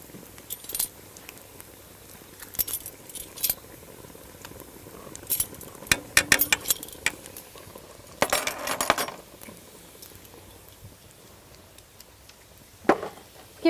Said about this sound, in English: Give this a good stir right here.